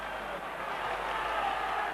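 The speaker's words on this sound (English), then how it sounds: "The crowd very appreciative of this" Steady, broad wash of crowd noise from rugby spectators applauding fierce Wigan tackling at a Wigan versus St Helens colts cup final replay, sustained and even throughout without distinct individual claps.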